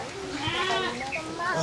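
A pregnant purebred Boer goat bleats in quavering, wavering calls against steady farmyard noise, with voices nearby.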